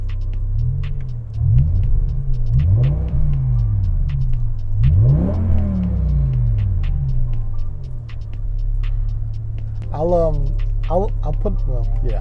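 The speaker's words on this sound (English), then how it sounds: "I'll put a video of the sound of the car revving high." A low rumbling BMW E63 M6 V10 engine idles, then revs in several rising sweeps, dropping back between them, with a sharper higher rev near the end.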